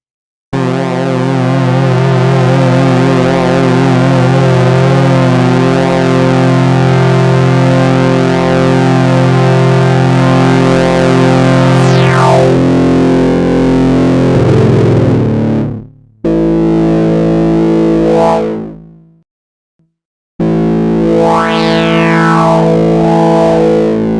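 A loud BABY Audio BA-1 synthesizer chord sustains with gritty, overdriven drive distortion, then cuts out and returns in bursts with sweeping, echoing tones.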